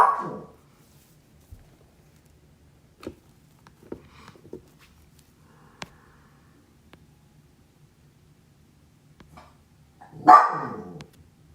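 A couple of short yelping barks from young dogs, one at the start and another near the end, with faint scattered clicks and quiet in between.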